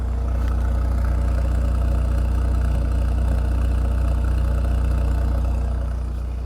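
A Mercedes-AMG C43 with an inline-four engine idles steadily nearby, giving a constant low exhaust rumble with no revving, alone and without voices.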